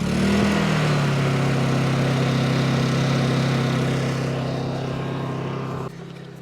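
A portable generator engine runs steadily and loud close by, a strong low hum with a constant droning tone, easing slightly in level near the end before dropping off sharply.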